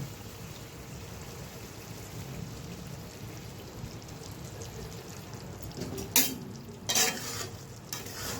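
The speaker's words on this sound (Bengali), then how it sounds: "তো ঢাকনাটা উঠিয়ে মাছগুলো দিয়ে দিব।" Hilsa fish sizzling and frying in a pan for a Bengali eggplant hilsa curry, a steady crackle with a few louder sputters and clatters near the end, close and without talk.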